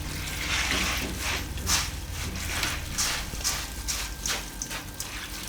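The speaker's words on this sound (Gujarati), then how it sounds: "અને પાણી નાખી દઉં." Water pours onto puffed rice to wash and soak it, a steady close gush with splashy bursts and soft rustling throughout.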